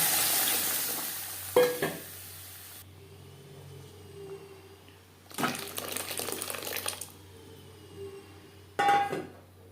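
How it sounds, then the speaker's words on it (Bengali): Panch phoron spices and chilies frying in a little oil for masoor dal, heard as short bursts of sizzling and stirring that flare up several times and fall back to a quiet pan in between, with no talking. "আরও কুড়ি পঁচিশ সেকেন্ড পাঁচফোড়ন লঙ্কা ভেজে নেওয়ার পর দিয়ে দেবো ডাল"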